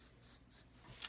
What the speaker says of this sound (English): I'm going to take my pencil and I'm just going to trace it